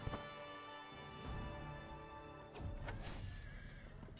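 A horse race in Crusader Kings III, with galloping hooves and a whinnying horse over a sustained musical drone, a sharp crash midway, and no talk.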